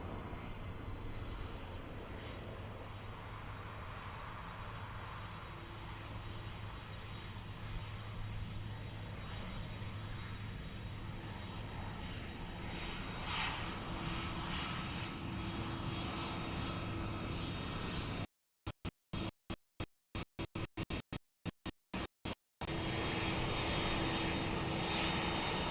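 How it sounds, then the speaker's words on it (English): Airbus A330 jet engines at Dublin Airport just after landing from LAX, a steady distant engine drone with faint tonal whine, continuous and moderately quiet, briefly dropping out in choppy gaps before resuming. "So the A330 down safe from LAX."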